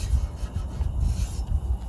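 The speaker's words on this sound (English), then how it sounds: "I need to do some sanding up here too" Rhythmic back-and-forth scraping of abrasive rubbed by hand over a 1998 Jeep Wrangler's body, steady strokes close up with no talking.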